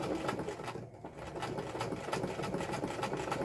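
Old, well-worn home sewing machine running steadily up close, a continuous fast rhythmic chattering hum with a brief dip in the middle, quiet and alone.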